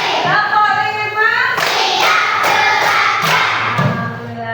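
Children in a classroom clap hands together in a counted pattern of five, a burst of sharp, fairly loud claps in quick groups with some thudding and faint voices around them.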